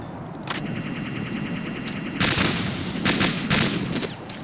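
Automatic AK assault rifle fire in Metal Gear Solid 2: Sons of Liberty, heard as several loud bursts of rapid shots over steady in-game background sound.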